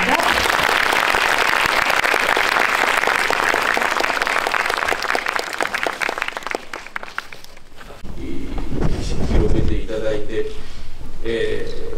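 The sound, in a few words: audience applause at a film screening Q&A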